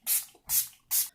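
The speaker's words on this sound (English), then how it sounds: "I'm going to go ahead and set everything down with the same Conceal and Define setting spray from Revolution Beauty." Revolution Beauty Conceal and Define setting spray gives three quick, close bursts of fine mist, each a short airy hiss separated by brief pauses.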